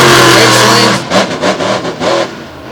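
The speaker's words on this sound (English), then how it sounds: "Dawson Reyes out of Lyons, Oregon, and Kamikaze heads out onto the track, does not waste any time, right up and over" Kamikaze, a monster truck, roars out onto the track at a monster truck show, loud and close, its engine revving in several rapid pulses after a sustained opening blast.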